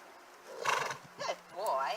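A horse whinnies and neighs in short bursts during mailbox desensitizing work, with a louder call early on and a longer whinny near the end, set over a low steady hum.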